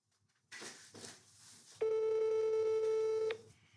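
A telephone call goes unanswered: a couple of soft clicks, then a single long electronic ring tone lasting about a second and a half before cutting off, fairly clear and close.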